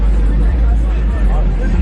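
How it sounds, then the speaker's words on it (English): Truck pulling up near a car meet, heard as a loud, close, steady low engine rumble with voices talking over it. "Got her truck pulling up."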